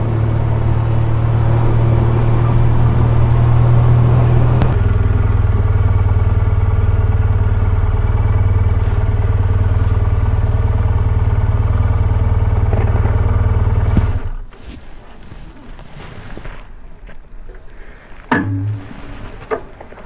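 A 2025 BMW R 12 S roadster motorcycle engine while riding, a loud, steady drone that holds for about fourteen seconds and then drops off to quieter rumbling and clatter.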